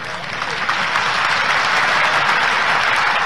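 Crowd applause at a political rally in Amarkantak addressed by Chief Minister Shivraj Singh Chouhan: a dense, steady wash of many hands clapping, loud and sustained for about three seconds without a break.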